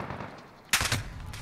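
Burst of H&K G36 rifle fire in Call of Duty Modern Warfare, a sharp loud onset followed by a few quick close shots, then a lingering low rumble.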